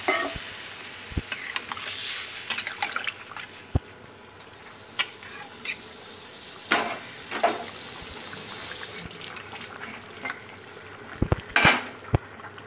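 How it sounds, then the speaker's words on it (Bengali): Hot water pours into a sizzling pan of cauliflower and koi fish curry: a steady hiss and watery rush, with scattered sharp clinks and spoon scrapes against the pan, and no talk. "এবার এখানে আমি কিন্তু গরম জল দিয়ে দিলাম।"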